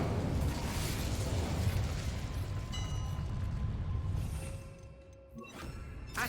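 The Incendio fire spell is cast in Hogwarts Legacy, a loud roaring burst of flame and crackling that rumbles on, then fades with a few bright magical tones and a brief sharp crackle near the end.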